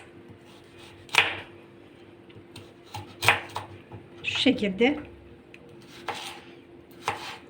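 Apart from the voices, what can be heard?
knife julienning carrots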